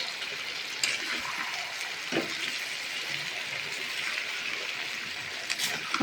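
Mutton kosha frying in oil in a pan gives off a soft, steady sizzle, a quiet even hiss with a few faint pops and no one talking.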